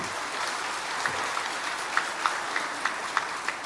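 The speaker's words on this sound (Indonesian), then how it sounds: "Tepuk tangan untuk beliau." An assembled audience claps for an honoured guest, a retired army lieutenant general, giving a fairly even, moderately loud round of applause with a few distinct claps poking through.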